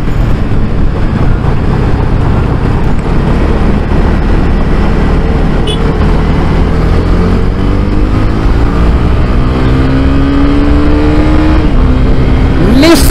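Honda CB300R motorcycle engine on a ride, a loud continuous roar with revs climbing in long sweeps and a sharp shift near the end, with heavy rushing road and wind noise.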